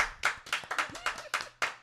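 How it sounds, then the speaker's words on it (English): A small group claps to mark the 50th episode of a live show, a handful of sharp, close hand claps in an uneven rhythm over about two seconds. "A round of applause for episode 50."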